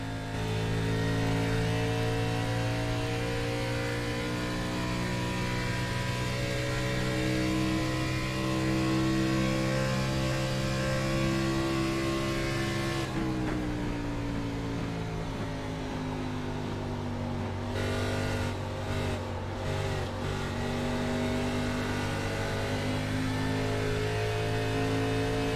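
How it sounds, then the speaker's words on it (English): Onboard engine sound from an Xfinity Series race car at Long Pond, a loud steady high-revving drone with strong harmonics that shifts pitch partway through and continues with brief flutters, close and alone. "I want to take a ride on board with Gabriel Ellison. I want to see if he's downshifting, actually."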